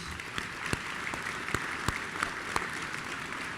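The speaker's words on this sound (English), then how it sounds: "Would you join me in giving them a round of applause?" A commencement ceremony audience applauds, a soft, steady patter of many hands at a distance with a few sharper claps standing out, continuing without a break.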